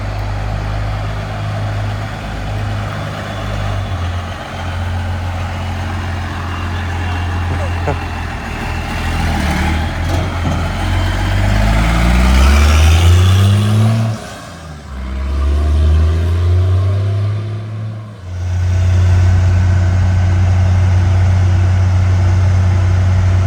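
A farm truck drives along a road, its engine loud and close, climbing through gears in rising revs. It drops back briefly around the shifts before settling into a steady cruising drone with road noise.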